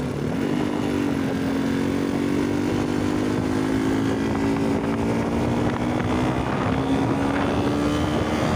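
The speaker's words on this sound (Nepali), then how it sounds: "बाइकको आवाज त्यस्तै छ" Motorbike engine droning steadily during an off-road hill ride, a loud sustained hum with a slowly rising pitch and wind rumble, no talk.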